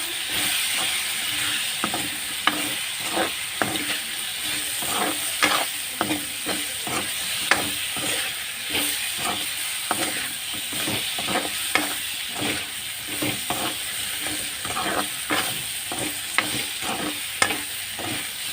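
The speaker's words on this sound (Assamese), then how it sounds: "এতিয়া এইখিনি ভালকৈ লৰাই ল'ম।" Chicken and banana flower are stirred in a frying pan with turmeric, a steady sizzle under repeated sharp scrapes and clatters of a spatula, close and continuous with no talking.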